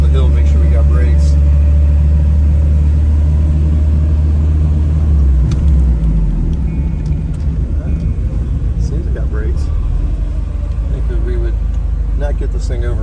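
A Porsche 924S engine runs on its first drive, a loud low rumble that idles steadily, then shifts and rises as the car moves off, with a voice talking over it.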